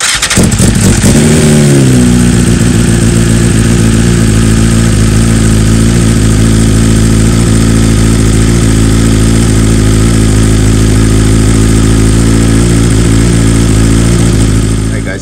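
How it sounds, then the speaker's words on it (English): A BMW S1000RR sport motorcycle engine cranks and fires up close by, then settles into a loud, steady idle that runs on without a break. "Now we'll start the bike. You'll see the oil drain. We'll let it run for at least 30 seconds"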